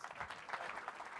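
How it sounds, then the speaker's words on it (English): A panel session audience at a Singapore innovation conference claps, a brief, faint burst of applause heard from a distance. "Ladies and gentlemen, please give them a round of applause"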